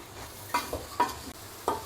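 Masala chana chaat being stirred in a pan with garam masala: three or four distinct scraping strokes of a spoon, evenly spaced and close, over a faint low sizzle.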